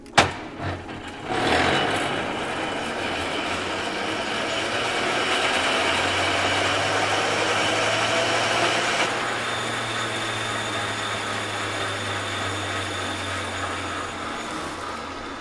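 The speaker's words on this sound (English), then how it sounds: "I can start this engine to demonstrate it running." After a sharp click, an early Rolls-Royce Welland jet engine spins up into a steady whirring, humming run that holds loud and even, then shifts slightly in tone midway.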